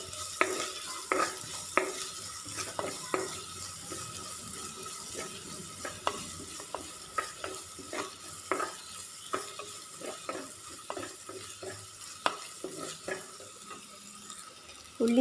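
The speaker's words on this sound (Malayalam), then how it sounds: "അരിഞ്ഞത് ഇട്ട് കൊടുത്തതിന് ശേഷം നന്നായിട്ട് ഇളക്കി കൊടുക്കാം" Chopped onions sizzle in a frying pan while a utensil stirs them, giving irregular scraping clicks over a steady crackle, close up with no voices.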